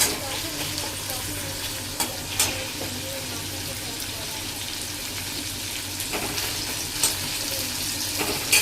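Onion fries in a pan with a steady, dense sizzle while a utensil scrapes and stirs it at intervals, close by and fairly quiet, with no one talking.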